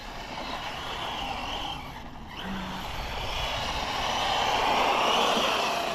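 An Arrma 6S Big Rock RC truck drifting on tennis courts, its electric motor giving a steady whining rush with tire scrubbing that swells louder toward the end, with no talk.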